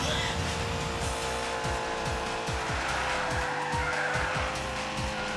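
Race car boosting with turbo in the arcade racer Hotshot Racing, a steady, loud engine roar with tire squeal and rhythmic thumps throughout, no pauses.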